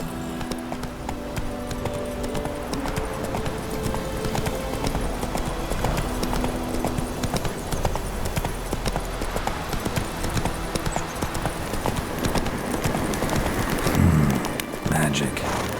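Horse hooves galloping in The Witcher 3 video game, a rapid, steady clip-clop running throughout alongside game ambience and music, with a voice speaking over it.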